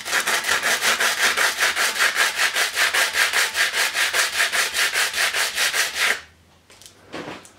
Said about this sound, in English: so I just clean this on the sandpaper.